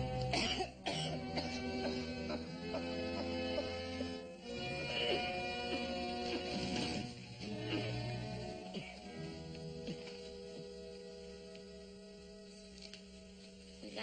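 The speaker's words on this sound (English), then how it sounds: "We gotta do something about that cough" A man coughs several times in rough, hacking bursts over a steady background of music and room noise.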